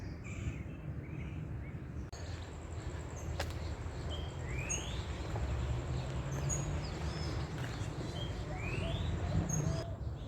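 Birds chirping and calling in a lush, rainforest-like botanical garden in Culiacán, Sinaloa, with short rising tweets scattered over a steady background of ambient noise, with flies also about.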